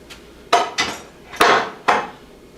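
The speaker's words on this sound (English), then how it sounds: "I'm going to have to readjust the tool rest." A lathe tool rest is being readjusted for a skew chisel while turning a green bowl, giving four sharp metallic knocks and clanks at uneven intervals, each ringing briefly, close and loud, with no speech.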